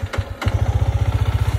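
A Yamaha MT15 motorcycle engine fires up in neutral and settles into a steady, rapid idle thump, loud and close, with no talking.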